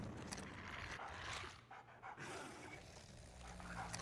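Dogs in the video game Umbrella Corps pant and snuffle faintly under a wash of steady background game noise, the sound sitting low and quiet throughout.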